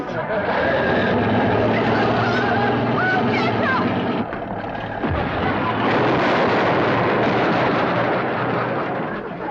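An old truck crashes into a chicken house while chickens squawk. A loud, continuous rumble and crash fill the scene, with a brief dip midway before the commotion swells again.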